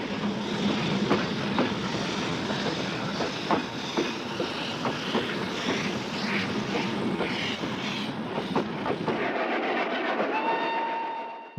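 A passenger train hauled by Class 142 locomotives, with a second engine mid-train, departs Timișoara, Romania: a steady rumble and rail clatter with rhythmic clicks, fading as it draws away, ending with a short high tone.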